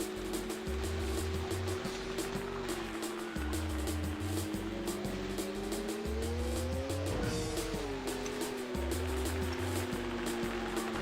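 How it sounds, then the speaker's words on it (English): Opponent race car engines in the MS-DOS rally game Screamer Rally, a steady droning whine that rises in pitch as cars close in, with rhythmic low pulsing and tire squeals, loud and continuous. "I can hear their engine."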